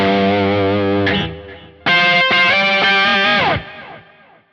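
An electric guitar played through a country preset on a Quad Cortex rings out with a sustained chord, then a fresh strummed chord that holds bright and loud before fading, with no voice.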